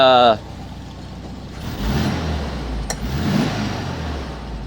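A 1968 VW Bus engine, freshly installed, revs up after its first start, with two throttle swells rising over a steady idle rumble at close range, following a brief burst of other sound at the start.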